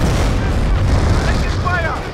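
A 17 pounder anti-tank gun booms in Company of Heroes amid a rumbling battlefield, one heavy low blast rolling into sustained thunder, with a voice briefly heard.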